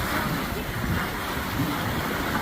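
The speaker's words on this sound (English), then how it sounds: "We got 16 knots of wind." Wind of about 16 knots roars over a sailboat heeled hard and moving fast on the Great Lakes, a steady, loud, broadband rush with buffeting against the microphone.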